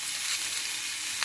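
Fish fries in an oiled pan with a soft, steady sizzling hiss, faint and close, with one brief crackle near the end.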